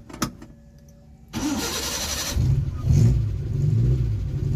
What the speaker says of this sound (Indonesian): 1 kali starter langsung hidup